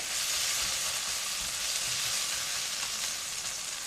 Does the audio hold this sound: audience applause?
no